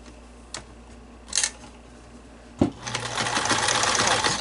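A sewing machine stitches a fabric mask cover for an N95, with a few faint clicks first and then a sharp start into a steady, close whirring run.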